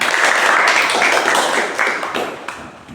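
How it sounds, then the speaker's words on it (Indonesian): A school class claps together after a group presentation, a brief burst of dense applause that starts strong and fades out within a few seconds. "Oke, tepuk tangan."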